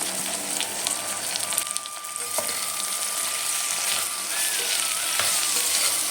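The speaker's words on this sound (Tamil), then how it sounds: "ஒரு முறை நல்லா கலந்து விட்டுட்டு கொஞ்ச நேரம் நல்லா வதங்கட்டு இந்த தக்காளி" Tomatoes sauté in a hot pan with a steady, close sizzle and crackle, a thin high whistle running through the frying for most of the stretch; no one talks.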